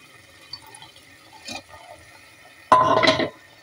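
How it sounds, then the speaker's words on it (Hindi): Water is poured from a glass into a pressure cooker of lightly roasted dal and rice for khichdi, a short close splash and fill after a quiet stretch of faint kitchen noise. "तो चलिए इसमें हम 2 गिलास पानी डाल देते हैं।"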